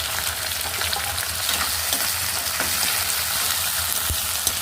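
Onions, curry leaves and tomatoes fry in a pan with a steady, dense sizzle, with occasional stirring clinks. No one speaks.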